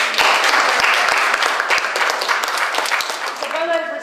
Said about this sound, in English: Let's applaud them again.